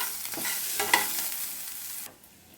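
Small onions fry in a pan with a bright, hissing sizzle and a few stirring scrapes, cutting off sharply near the end.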